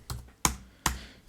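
Three crisp, quiet keystrokes on a computer keyboard, evenly spaced about 0.4 seconds apart, tapped close by while writing code in Unity.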